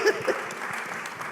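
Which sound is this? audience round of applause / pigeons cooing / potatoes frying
audience round of applause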